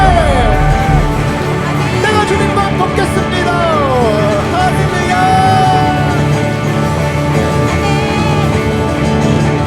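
A church congregation shouting and applauding during worship, a continuous roar of cheers and whoops with sustained music and tonal voices running through it.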